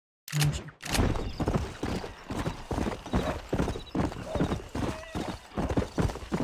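Horse hooves clip-clop in a steady walking rhythm in Red Dead Redemption, close and clear, with a whinny near the start and someone talking over the footfalls.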